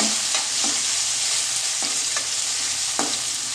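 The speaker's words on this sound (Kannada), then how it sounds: "ಟೊಮೆಟೊ ಹಾಕುವ ಇದನ್ನು ಚೆನ್ನಾಗಿ ಫ್ರೈ ಮಾಡುವ" Tomato and jackfruit fry in a pan with a steady sizzle, broken by several short scraping stirs of a spoon against the pan. No one speaks.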